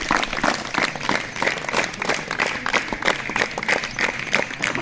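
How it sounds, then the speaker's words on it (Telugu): Audience at a bicycle distribution event for poor students clapping steadily, a dense, continuous round of applause held at even loudness throughout without breaks. "అమ్మ గట్టిగా క్లాప్స్ కొట్టన్నా, ఇలా పిల్లలకు వినపడాలి, కెనడాలో వినపడాలి"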